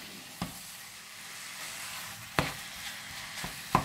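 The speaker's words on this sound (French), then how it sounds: "Je continue à écraser comme ça la viande pour ne pas avoir de grumeaux." Ground meat sizzles in a pan while a utensil mashes it to break up lumps: a quiet, steady frying hiss punctuated by several sharp scraping knocks of the spatula against the pan.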